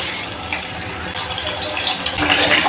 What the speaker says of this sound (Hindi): अब 1 बाय 1 फ़िश इसमें डाल के इसको फ्राई करेंगे।